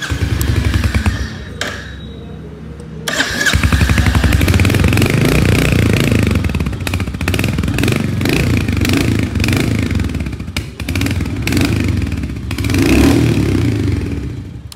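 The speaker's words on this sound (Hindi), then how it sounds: "तो कुछ इस तरीके का स्पोर्टिव एग्जॉस्ट नोट आपको इस बाइक का सुनने को मिल जाता है।" Royal Enfield Hunter 350 motorcycle, 2024 model in Dapper Grey, with a loud sporty exhaust note that idles, then blips and revs in repeated surges close to the microphone, with a brief drop near the start.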